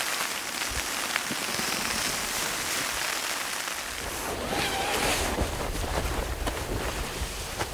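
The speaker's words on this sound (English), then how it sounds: "Is it raining ice or whatever you said it was last night?" Rain or ice pellets patter steadily on a surface outdoors in the mountains, a dense close hiss with scattered louder ticks and a low rumble rising midway.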